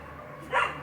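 A single short dog bark rings out at a moderate distance on a wooded walking path at Lourdes Grotto, over quiet background ambience.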